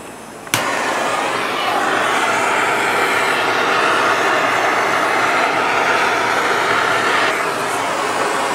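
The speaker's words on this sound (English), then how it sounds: "I'm gonna have to heat it with a torch to about 280 degrees or so to release the high strength Loctite" Propane torch heating a bolt to release high-strength Loctite on a Yamaha APEX Skytrax gearbox clutch during a Kitfox 7 build, a steady loud roaring hiss that ignites sharply and then runs continuously and close.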